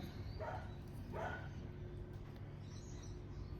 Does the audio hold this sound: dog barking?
yes